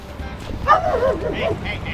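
A dog gives a short whining, yelping bark, close by, with some background noise around it.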